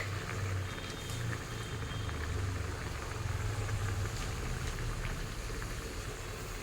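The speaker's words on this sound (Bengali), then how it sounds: "ঝোল ফুটে গেছে, আরও একটু সময় নিয়ে ফোটাতে হবে।" A pot of vegetable curry broth at a rolling boil on a high flame, with a steady bubbling rumble, close and unbroken, occasional small pops on top and no talking.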